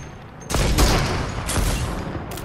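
Loud, close bursts of gunfire erupt in a Fortnite trios match, a dense volley starting abruptly and rolling on with a second flurry before tapering, no talking over it.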